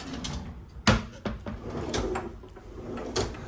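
A kitchen drawer in a Bangkok condo slides and bumps shut several times, with sharp knocks and wooden rumbles close by in a quiet room.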